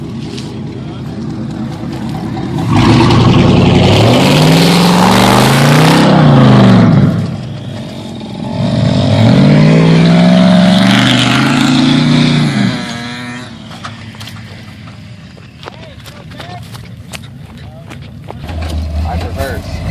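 A stuck truck's engine roars in two long, loud revving bursts in mud, each surging and falling, with voices talking near the end as the motor drops to idle.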